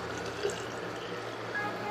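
Filtered water pours into a dosing dispenser used for soaking a cake, making a soft, continuous trickling splash at moderate distance.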